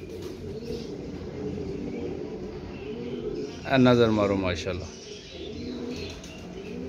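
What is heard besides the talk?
pigeons cooing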